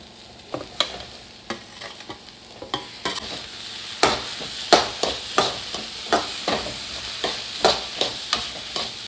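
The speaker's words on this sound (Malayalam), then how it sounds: "നമുക്കിനി അതിലേക്ക് തക്കാളി ഇട്ട് കൊടുക്കാം" Tomatoes fry with softened onions in a pan for chilli chicken, a constant sizzle under sharp, regular taps and scrapes of a spatula stirring, growing busier toward the end, with no talk.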